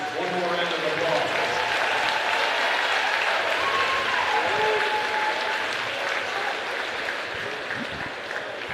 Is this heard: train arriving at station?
no